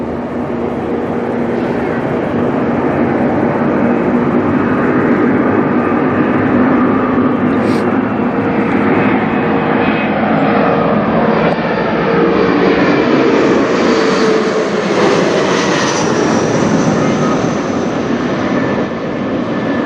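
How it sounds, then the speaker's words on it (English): Mitsubishi CRJ 900LR regional jet of Air Canada Express, Jazz Aviation, flying over Toronto airport, a loud continuous engine roar and rushing whine that holds steady throughout and swells slightly as it passes close overhead. "a Mitsubishi CRJ 900LR from Cincinnati, Air Canada Express, Jazz Aviation"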